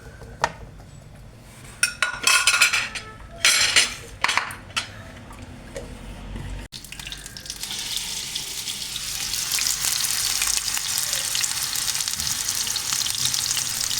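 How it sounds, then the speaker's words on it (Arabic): Peppers fry in oil in a pan, first with scattered clinks and stirring, then a loud, steady close-up sizzle that builds and holds to the end. "وندير الفلفل، ونخليه تتقلى"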